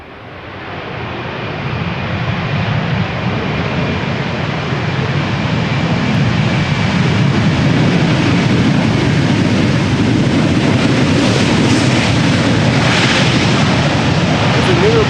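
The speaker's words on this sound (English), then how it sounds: "Got to hear the reversers of the A320 quite well." An Airbus A320's roar builds and holds steady as its thrust reversers spool up loudly on landing at Schiphol, a broad sustained rush with faint voices underneath.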